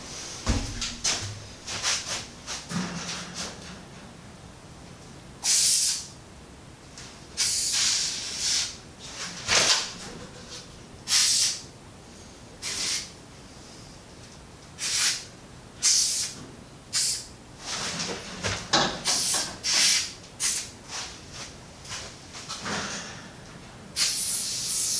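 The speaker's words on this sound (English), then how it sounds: "I've sprayed inside all 4 rollers, and I've also gone ahead and sprayed in the track around them" Aerosol lubricant is sprayed into garage door rollers and the metal track in a series of sharp, separate hissing bursts of varying length, close by, with quiet gaps and faint handling noise between them.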